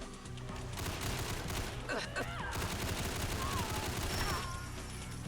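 Rapid Uzi submachine gun fire in Fallout 4, dense bursts of automatic shots rattling continuously with booming reports and some screeching game effects mixed in.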